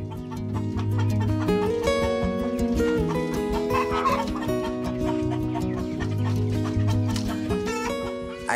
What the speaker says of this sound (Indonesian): Ayam KUB ini adalah ayam kampung